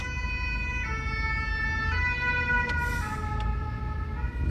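A fire engine siren wails steadily and loudly in Paris, its repeating tone held over a low rumble of road traffic, with no voices.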